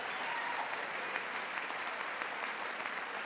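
Steady, dense applause from a large audience at a presidential joint address to Congress, a continuous wash of clapping at moderate level with no break across the few seconds.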